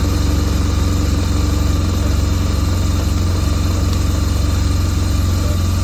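A BMW R1200GS motorcycle engine idles close by with a loud, steady, even rumble that holds throughout with no talking.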